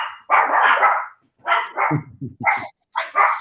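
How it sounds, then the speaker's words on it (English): Dogs barking at home during an online pool tile webinar, a few short sharp barks in quick succession breaking in between stretches of nearby talk. "Hey, I got dogs."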